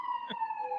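Siren with a steady high tone heard briefly in a city street, a single sustained wail with a short thump partway through.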